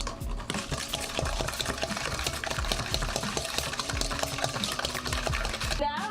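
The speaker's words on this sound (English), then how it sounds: "we're going to vigorously whisk it." Tiramisu cream mixed with an alcohol mixture is whisked vigorously in a bowl, giving fast, continuous rhythmic scraping and clicking throughout, steady and close, with no speech.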